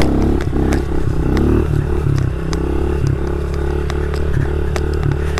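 Fuel-injected pit bike engine running steadily while being ridden, a close, continuous buzzing drone with small rises in revs and some clattering mechanical noise, no talk.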